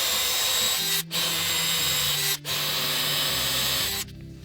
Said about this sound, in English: we're gonna start out by drilling these 3.